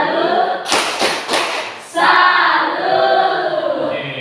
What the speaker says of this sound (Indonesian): Tepuk salut buat Nela.